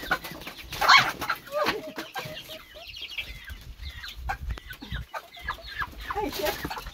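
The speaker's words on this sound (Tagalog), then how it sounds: "nandito yung manok na kakatayin natin ngayon." A small chicken clucking and squawking nearby, bursts of agitated calls among other fowl, with some handling noise and brief voice sounds.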